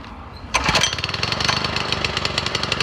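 A gas lawn edger engine catches after a brief quiet moment, then settles into a steady, rapid, buzzing idle with a regular chugging pulse, close by and loud.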